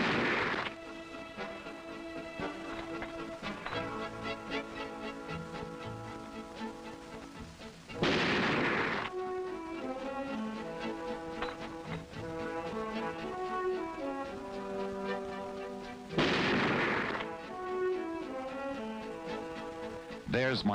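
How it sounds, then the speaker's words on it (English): A Remington Model 700 bolt-action rifle fires three shots at 100 yards, each a heavy booming report spaced several seconds apart, set against background music. "Each shooter will fire 3 shots at 100 yards, and Mike starts it off with a bolt-action model 700."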